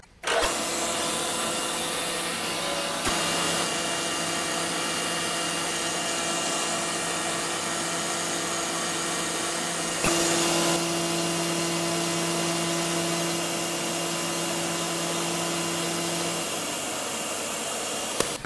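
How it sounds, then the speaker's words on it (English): A shop vac roars steadily and loudly the whole way through while face milling chips off a tapered gib. A faint whine rises partway through and sits over the motor noise, with no talking. "now we just face mill this away using the shop vac here to collect most of the chips"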